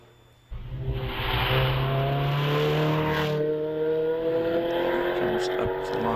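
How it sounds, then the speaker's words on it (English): A Lotus Elise S1 race car with an 1800cc engine launches hard up the Prescott hillclimb, its engine note rising loud and sustained through the gears before easing as it pulls away. "And then we see the Lotus Elise S1 of Austin Weltman, car 275"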